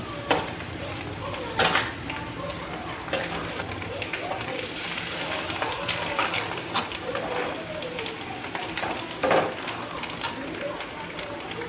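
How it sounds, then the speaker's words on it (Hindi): Green chilies, curry leaves and coriander go into mutton frying in a pan, giving a steady close sizzle and crackle with intermittent stirring scrapes and a few sharper pops throughout. "यहाँ देखिए 3 हरी मिर्च, थोड़े से करी लीव्स और थोड़ी सी कोथिंबीर ऐड कर दूँ"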